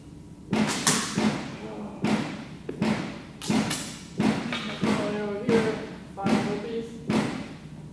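Arrows loosed from a war bow during an archery workout, a series of about nine sharp thuds and snaps spaced roughly a second apart, close and fairly loud.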